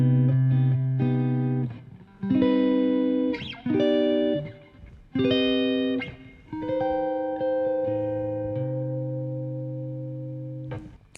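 Jazz guitar run through an arpeggiator effect, sounding as bursts of rapid repeating notes with processed, effected tone, several phrases separated by short gaps and a long sustained final chord that fades slowly.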